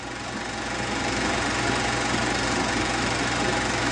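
An Allis-Chalmers WD-45 farm tractor engine runs steadily with a dense, continuous mechanical drone and knocking rumble, loud and unbroken throughout.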